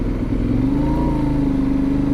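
A close Benelli Leoncino 800 motorcycle engine revs steadily upward, a loud continuous mechanical drone with rising pitch and no talking.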